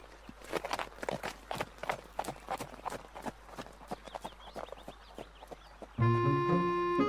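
A horse rides away at a walk, its hooves clip-clopping in a steady, fairly close rhythm that fades a little before a music sting cuts in at the end.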